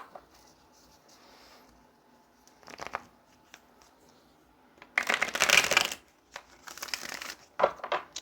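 Tarot cards being shuffled by hand, with bursts of crisp riffling and flapping, two louder shuffles in the second half after quieter handling and faint rustling earlier, no talking.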